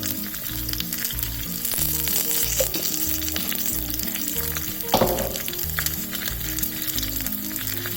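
Curry leaves and onions sizzling in hot oil, a loud, steady crackling fry that continues throughout, with one brief sharper burst midway.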